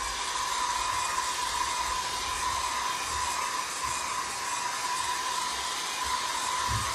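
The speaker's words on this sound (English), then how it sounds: "I am going to use my hair dryer" A hair dryer blows in a steady, loud whoosh with a constant motor whine, running without pause throughout.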